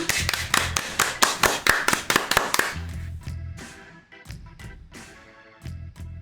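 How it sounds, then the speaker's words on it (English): A small group claps hands together in a quick, sharp rhythm of close, crisp slaps, then the claps thin out into a few scattered, softer hits near the end. "Everybody clap your hands."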